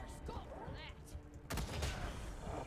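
Turret gunfire from the video game Wasteland 3 bursts in a rapid volley halfway through, loud and sharp over a busy background of game sounds.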